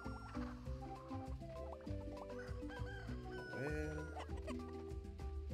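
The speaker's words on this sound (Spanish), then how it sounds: "Unas cuantas gallinas." Chickens cluck repeatedly in the farming game Roots of Pacha, a busy overlapping chorus of clucks and a rooster-like call, loud and continuous over a steady background of game music.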